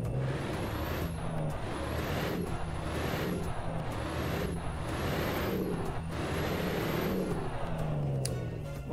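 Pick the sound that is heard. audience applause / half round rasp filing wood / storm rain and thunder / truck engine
truck engine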